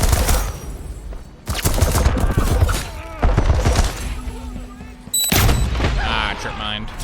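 Gunfire in the video game LoopDeath, dense bursts of rapid shots and booms in several loud volleys separated by brief pauses, with a voice talking amid the shooting.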